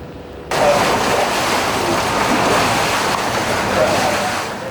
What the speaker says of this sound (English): Water being pushed out of the Rite Aid store at 3rd and Vermont